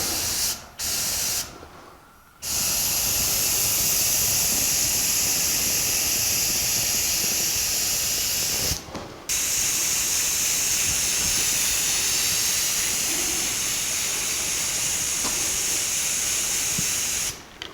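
A spray can lays a final coat of semi-gloss black onto rock slider trim for a 1984 Jeep CJ7, a loud, close, continuous hiss in long bursts broken by two short gaps.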